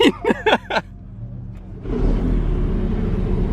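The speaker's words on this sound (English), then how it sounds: "that's a cold start of a 918" A Porsche 918 cold-starts after a few short bursts of speech, its engine catching with a sudden roar and then settling into a steady, loud, close idle rumble.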